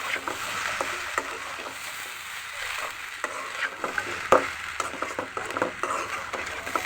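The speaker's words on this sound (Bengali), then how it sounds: "এখন আমি ভালো করে একসাথে মিক্স করে দেবো।" Sweet zarda made with polao rice, sugar and raisins being stirred and fried in a pan, soft repeated scrapes and clicks of a spoon against the pan over a faint sizzle, close and quiet, no voices.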